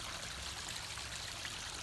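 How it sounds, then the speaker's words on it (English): A garden water feature trickles and splashes in a steady, continuous wash of water noise at moderate volume, with no voices over it. "We got our water feature up and running,"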